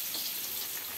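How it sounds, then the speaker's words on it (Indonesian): Onions, galangal and ginger stir-frying in a pan for tumis genjer, a steady close crackling sizzle throughout with no talk. "Nih sekarang saya menumis ini teman-teman."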